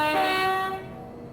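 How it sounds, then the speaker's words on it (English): A Class 378 London Overground electric train on the Gospel Oak to Barking line gives a sustained, loud two-tone horn blast that fades away under steady rolling train noise. "The horn's actually okay."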